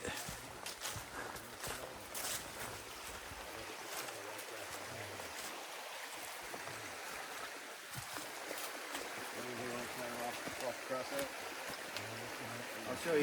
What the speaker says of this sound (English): And we're getting to the creek. You can hear it.